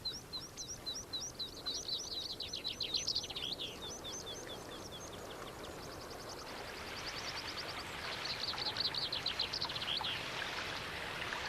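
Bright chirping bird calls ring out in repeated bursts over the constant rush of a fast-flowing stream, with a second spell of chattering calls later on.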